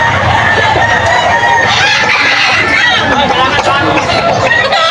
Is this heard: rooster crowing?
yes